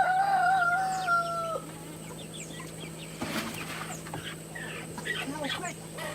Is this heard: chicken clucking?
yes